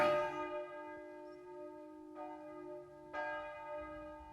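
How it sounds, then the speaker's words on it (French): A church bell in Épernon tolls slowly as a death knell, each deep strike ringing out and decaying into a long resonant hum before the next, with no voices. "les cloches de l'église d'Épernon ont sonné le glas"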